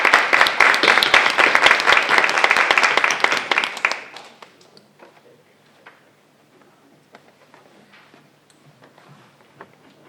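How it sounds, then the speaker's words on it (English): A burst of audience applause for spellers at a school spelling bee, dense and loud for about four seconds before dying away to a few scattered claps and quiet room noise. "Round of applause for all the spellers."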